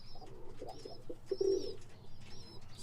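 Young homing pigeons coo softly inside a kit box, low throaty burbling calls repeating close by over faint background sounds.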